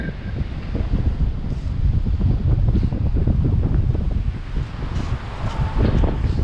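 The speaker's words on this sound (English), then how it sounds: "it is windy today." Strong gusting wind on Fort Lauderdale beach buffets the microphone, a continuous rough roar with no other sounds standing out.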